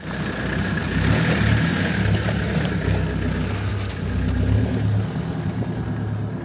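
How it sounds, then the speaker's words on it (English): A Land Rover Defender 2.4 with an aftermarket exhaust drives past, its low engine drone steady and fairly loud, swelling slightly twice with wind-like rushing over the top. "the demand exhaust, it makes it sound like it should when you look at the car come in"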